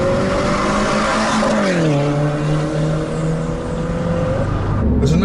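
A 2014 Mini Cooper S accelerates with a steady, loud engine drone whose pitch climbs, dips through a gear change and climbs again, ending on a deeper shift near the close.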